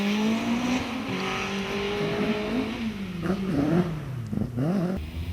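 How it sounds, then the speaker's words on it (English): A Vauxhall-powered Caterham racing car attacks a British speed hillclimb course, its engine loud and close with a steady high-revving roar, quick gear changes and rising and falling revs as it powers uphill. "And here's Dave Wilson's Vauxhall powered version"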